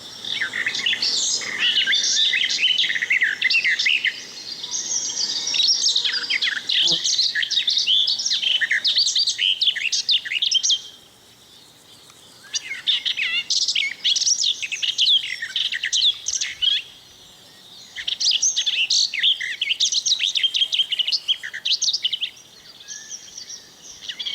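A garden warbler sings in long, rapid, warbling phrases of bright chirps and trills, in three bursts separated by short pauses, close and clear over faint insect buzzing.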